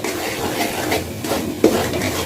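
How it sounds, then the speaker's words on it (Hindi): Semolina (suji) frying in a pan for halwa while a spoon stirs it steadily: continuous close scraping and soft sizzle, with a brief metallic clink against the pan partway through. "कलर चेंज होने तक इसे हम फ्राई करते रहेंगे। चम्मच आपने नहीं रोकना"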